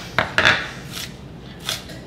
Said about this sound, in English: then a few cross slices to bring it down a little bit in size